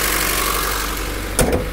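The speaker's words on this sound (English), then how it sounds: "makes a little bit of noise from the valve train. You can hear it." A 2002 Honda S2000 engine idles steadily with valve train noise. The engine is worn, knocks and loses oil pressure. The hum stays constant, and a short, sharper burst of noise comes near the end.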